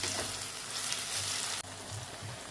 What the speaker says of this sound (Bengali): পেঁয়াজের সাথে পেস্টটা সুন্দর করে ভাজতে শুরু করলাম।